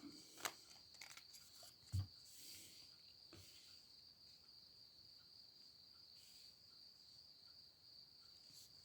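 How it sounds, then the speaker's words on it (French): Crickets chirp in a steady high-pitched drone through a quiet outdoor night, with a couple of brief soft knocks early on. "On a le bruit des grillons, c'est ce que vous allez entendre, parce que là ils chantent"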